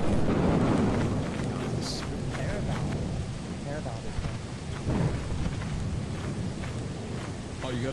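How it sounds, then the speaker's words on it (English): Thunder rumbles over steady rainfall in the video game Lethal Company, a broad, heavy wash of storm noise with voices talking over it. "Oh, it's thunder."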